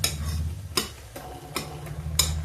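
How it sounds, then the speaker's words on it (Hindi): Spoon scraping and stirring banana chutney with cinnamon powder in a pan over low heat, a few distinct clicks spaced about every second over a low steady hum. "थोड़ा सा दालचीनी पाउडर, चलाएंगे धीमी आंच पे।"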